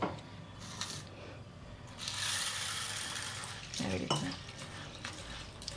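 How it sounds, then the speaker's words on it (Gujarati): Sago pearls washed in a bowl of water by hand, giving a steady close swishing and grainy rattle that swells loudly around the middle, with sharper splashy clinks near the end. "એક વાટકી લીધા છે સાબુદાણા હા એને આપણે બે પાણી વ્યવસ્થિત ધોઈ નાખશું"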